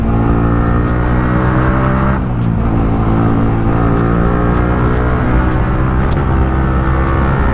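A motorbike being ridden on a Sunday group ride near Beawar, its engine droning loudly and continuously close by, with a brief dip and pitch shift as it accelerates, wind rushing throughout.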